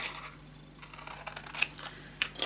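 Scissors snip paper at a corner for a scrapbook mini album, a few quiet, close crisp cuts clustered near the end against a faint background hum.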